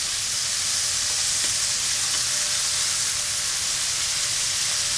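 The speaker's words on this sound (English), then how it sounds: "So we're gonna get our pork into here. Make sure it's all hitting the bottom of the pan" Pork sears in a single layer on the bottom of a Dutch oven, giving a loud, dense, unbroken sizzle that holds steady throughout.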